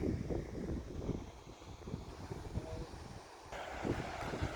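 Wind gusting at a seashore near high tide during a nature walk, a steady rushing roar with low buffeting rumble on the microphone, continuous and fairly loud with no voices.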